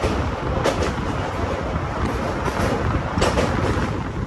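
An InterCity Express train pulls away from Laxmipur Road station on the Koraput to Visakhapatnam line. From on board, a steady low rumble of wheels and carriages continues under wind noise, with a few brief clanks.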